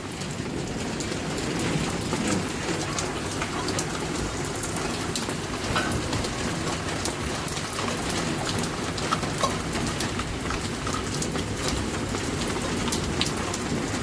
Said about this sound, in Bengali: আলহামদুলিল্লাহ আজকেও আবার বৃষ্টি হচ্ছে, অনেক বৃষ্টি।